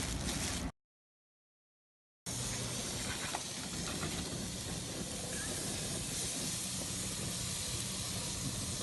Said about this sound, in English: That is the sound of sizzling chicken on a nice cast iron grill.